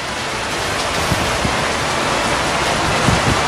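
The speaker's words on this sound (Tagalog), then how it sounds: "lalo pong lumalakas ang bagsak ng ulan" Heavy rain pours down in Kawit, Cavite during a flood, a dense, loud, steady hiss of downpour with low rumbling thuds, no voices.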